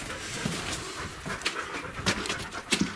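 A dog pants rapidly close by, with a few soft whimpers and faint bird calls in the background.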